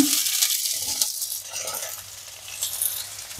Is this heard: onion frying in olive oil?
yes